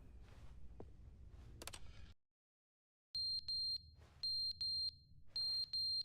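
A loud electronic alarm from The Stanley Parable beeps in repeated bursts after a brief silence, following a stretch of rumbling game sound.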